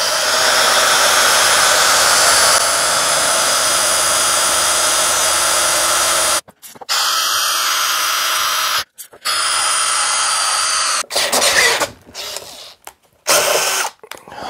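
A Worx WX177 Switchdriver cordless drill bores into steel about 5-6 mm thick with cutting oil, whining steadily at high speed before breaking into several short, stop-start bursts near the end.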